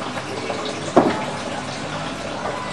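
Liquid poured into a pan of risotto on the hob gives a steady watery splash and sizzle, with a brief louder gush near the start of the pour and no talking.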